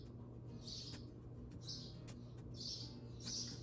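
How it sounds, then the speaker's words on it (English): Wild birds nesting in a window frame give four short, high chirps at roughly even intervals, faint and somewhat distant over a low steady background hum. "They're wild birds that nest in my window frame every year. So if you hear those chirping through videos, that's why."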